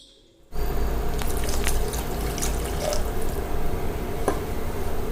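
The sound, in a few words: water poured into cooker for egg biryani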